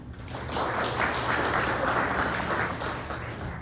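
A crowd at an annual mayoral update breakfast event in Corona applauds a Star Realty and Star Mortgage speaker: steady, dense clapping that swells quickly and holds at full strength for several seconds before easing slightly.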